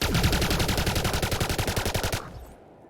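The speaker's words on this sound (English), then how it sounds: "This is a laser carbine, so, you know, I guess it makes sense." A laser carbine in Elite: Dangerous fires a fast, steady stream of loud rhythmic pulses for about two seconds, then stops and leaves a fading tail.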